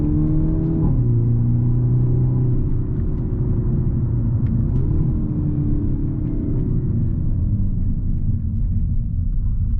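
A 2022 Hyundai Elantra N running downhill on a mountain road with manual paddle shifts, its engine a steady loud rumble and whir with a gear change early on, up close from inside the cabin.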